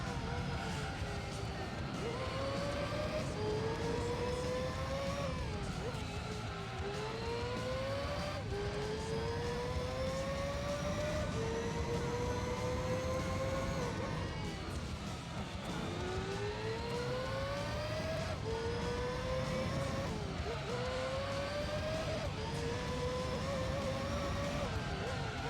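Mazda 787B race car engine in Gran Turismo 3, a high rotary wail climbing through repeated gear changes, each upshift dropping the pitch before it rises again, sustained and loud for the whole lap section.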